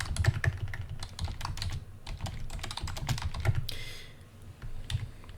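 Quick, close keystrokes on a computer keyboard come in uneven bursts with brief pauses, crisp clicks tapping away at moderate volume.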